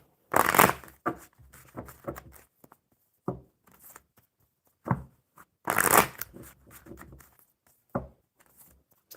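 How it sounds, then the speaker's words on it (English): Tarot cards being shuffled by hand, close and crisp, in bursts of riffling and rustling separated by short pauses, with no talking. "We start with tarot, and I shuffle until I get 3."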